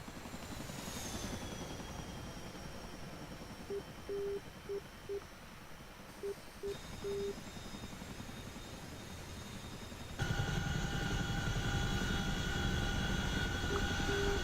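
A steady mechanical engine drone with a high whine from a helicopter cruising in the DCS flight simulator, growing louder and denser partway through, with faint beeping tones mid-clip.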